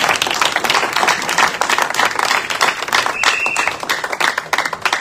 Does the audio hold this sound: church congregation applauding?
yes